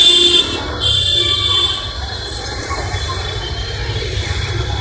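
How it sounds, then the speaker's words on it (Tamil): A Bangalore metro train rolls past near Hosur Road with a steady rumbling roar and high wheel squeal, loud at first and easing slightly as it moves on. "மெட்ரோ ட்ரெயின் போயிட்டு இருக்கு பாருங்க"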